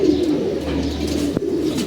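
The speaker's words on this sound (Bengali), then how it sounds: "আমরা কবুতরগুলো এখন ছাড়বো না কবুতর আটকে রাখবো" Pigeons coo close by, soft throaty rolling calls repeating in a steady murmur with a brief flutter or knock partway through.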